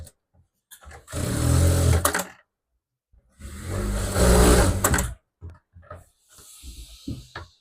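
A tailor's sewing machine runs two long stitching bursts on a little girl's frock, then gives short, stuttering runs and clicks, close and fairly loud with pauses between.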